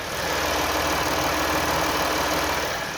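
A V6 gasoline SUV engine idles steadily at close range, a smooth, even hum with a low rumble and no other sounds.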